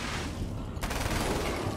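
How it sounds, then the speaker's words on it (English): Submachine gun fire in the video game Alan Wake's American Nightmare, a brief burst of rapid shots with a sharp onset partway through, heard against ongoing game noise. "Submachine gun for the win."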